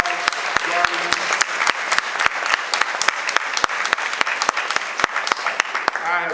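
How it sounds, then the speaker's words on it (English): A graduation crowd at the HC Liberal Arts Academy applauds, with many sharp, distinct claps spread across the whole stretch over a washy bed of clapping, loud and close. "Boys and girls, applaud you, your moms, your dads, grannies, papas, guardians."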